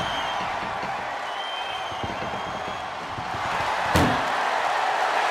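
The ambulance door slams shut in a WWE wrestling arena, one sharp loud bang near the end over steady crowd roar and scattered claps.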